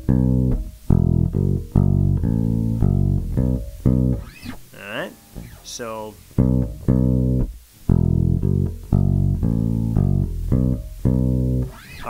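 Bass guitar playing a blues bass line, a repeating pattern of deep plucked notes up close, pausing briefly midway while someone speaks.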